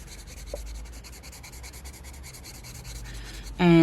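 Leaf-green colored pencil strokes rub softly across paper while shading the edge of a hydrangea drawing, a faint, steady scratchy texture, followed by a brief louder clatter at the end.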